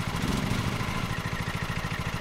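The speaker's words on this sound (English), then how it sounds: "Start the engine." A lawn mower engine in the video game Lawn Mowing Simulator runs with a rapid, even low putter that pulses steadily at moderate loudness, sounding like it is already idling rather than starting.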